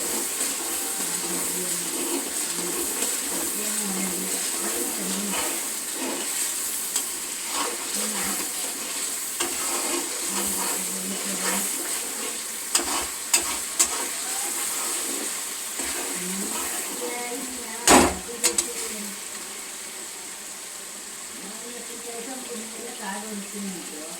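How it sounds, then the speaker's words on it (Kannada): Food frying in a pan while a spatula stirs it, giving a steady sizzle with scraping strokes and a few sharp clatters near the end, close and moderately loud. "ಚೆನ್ನಾಗೆಲ್ಲ ಫ್ರೈ ಆಗೋವರೆಗೂ ಈ ಥರ ಚೌಟಲ್ಲಿ ತಿರುಗಿಸ್ತಾ ಇರಬೇಕು."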